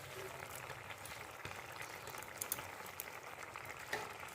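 A tilapia fish curry simmers in a pan with a steady low bubbling and sizzle, close and continuous, with a few faint clinks and a soft rustle of stirring over the top.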